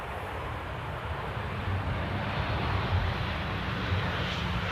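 A KLM airliner in the older livery with straight nose cheat lines arrives at Amsterdam airport, giving a steady, distant jet roar that swells gently and holds for several seconds without any talk.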